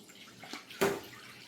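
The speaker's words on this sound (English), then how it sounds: "To that I'm gonna add, what do I have down? 400 grams of whole milk warm and then another 100 grams of water." Warm whole milk and water poured into a bowl for sourdough butter bread dough, a single short liquid splash that is quiet and heard alone.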